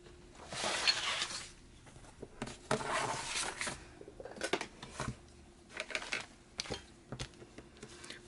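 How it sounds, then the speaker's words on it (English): Scissors trimming the edges of 12x12 scrapbook paper, a series of crisp close snips and rustling slides in irregular bursts, with no talking. "We're going to cut these edges a little."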